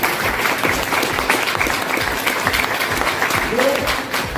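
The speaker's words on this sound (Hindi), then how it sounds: "मैं एक बार जोरदार तालियां चाहूंगा" Loud, sustained applause from a large audience, many hands clapping at once in a continuous roar, with murmuring voices underneath.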